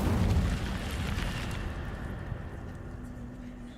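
In Hogwarts Legacy, the Incendio fire spell bursts out as a loud, roaring whoosh of flame that fades over a few seconds into a softer rumble.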